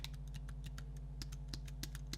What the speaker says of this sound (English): is the sound of the space bar